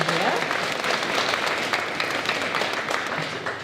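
Audience clapping at a school awards night, a steady, fairly dense patter of many hands filling a hall throughout, with some voices mixed in underneath.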